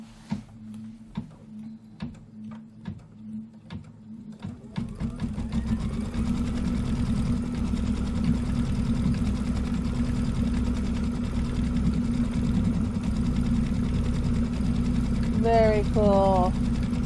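An embroidery sewing machine stitching red thread on Mylar for a pillow wall hanging: a few slow ticks, then a loud steady whirring hum with rapid needle chatter, close by, with a brief spoken remark over it.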